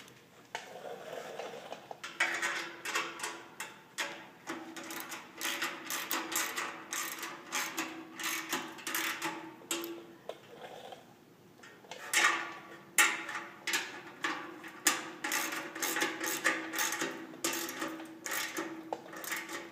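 Screws are tightened on a metal multi-angle bracket, with repeated close, faint ticking and clicking in irregular bursts and brief pauses between them.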